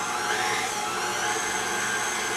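A KitchenAid stand mixer runs on speed 4 kneading pasta dough, giving a steady high motor whine with a faint churning underneath, close and unbroken.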